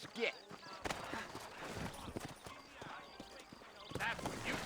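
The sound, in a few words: horses' hooves in Red Dead Redemption video game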